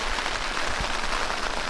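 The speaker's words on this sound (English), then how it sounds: "today, it's obviously raining right now." Steady rain falling on a tent during a backpacking trip in Montana's Bob Marshall Wilderness, a dense even patter heard close up with nothing else over it.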